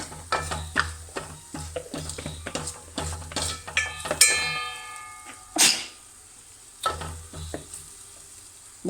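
Spices with turmeric powder sizzle in a pan while being stirred briskly, rapid scraping strokes and clinks close up, then pausing into quieter sizzling with occasional stirs.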